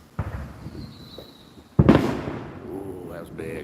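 Fourth of July fireworks go off with a small pop early, then one big, loud, close boom whose crackle and rumble trail away. A person reacts briefly afterward.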